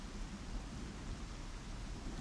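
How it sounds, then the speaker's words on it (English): Heavy, relentless rain pours in a steady, dense broadband hiss with a low rumble, continuous and fairly loud throughout, alone without voices, in a dark horror-story setting. "The rain was relentless."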